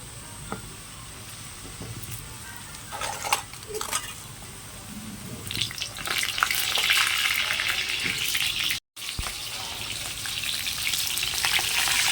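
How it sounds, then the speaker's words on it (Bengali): Potatoes fry in oil ahead of a mutton curry, giving a steady sizzle that grows louder and brighter, with a few pan knocks and clinks close by and a brief break partway through. "খাসির মাংস রান্না করার জন্য আগে আমি আলুটাকে ভেজে নেব"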